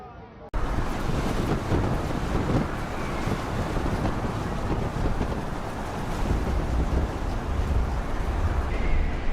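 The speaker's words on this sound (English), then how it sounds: "These waves are quite powerful and high." Storm wind and heavy waves batter a giant timber-carrying cargo ship at sea, a loud, unbroken roar of gusts and surging water with deep rumbling underneath.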